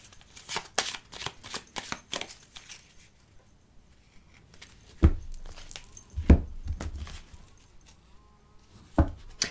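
Tarot cards shuffled and cut in a quiet room, with a brisk run of riffling flutters, then a few louder slaps as the deck is split and set down, no talking.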